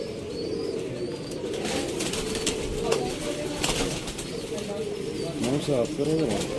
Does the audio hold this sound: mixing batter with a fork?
no